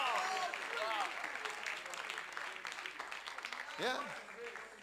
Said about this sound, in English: that's why you clap for her.